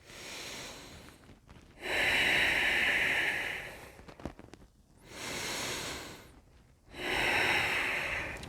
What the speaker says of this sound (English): Take 3 breaths here.